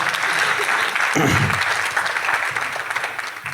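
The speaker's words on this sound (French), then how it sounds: "Vous pouvez l'applaudir, bien sûr." An audience at a public evening talk on energy transitions claps to welcome the director of a biomass association, sustained close applause with a short low bump partway through.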